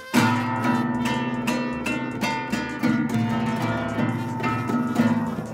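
Several guitar strings ring out together in a strummed, rhythmic pattern, repeated chords sounding bright and close with no talking.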